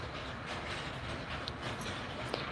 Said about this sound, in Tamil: அந்த சவுண்டு நம்ம பக்கத்து வீட்டு எதிர் வீட்டிலே தான் தறி ஓட்டுவாங்க